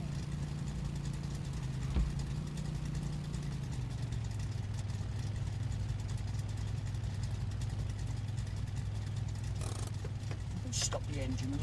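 A diesel Lada Niva idles steadily, a low, even engine hum held close and constant, slightly dropping in pitch early on, with a few faint knocks and clicks near the end.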